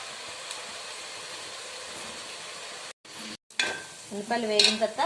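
Onions fry in a pan for a fish curry. A steady, even sizzle hisses close by, then stops for brief gaps before clinks and rustling handling noises take over toward the end.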